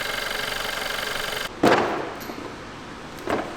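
A car engine runs steadily and then cuts out, followed by a couple of sharp knocks or clunks nearby, with no talking.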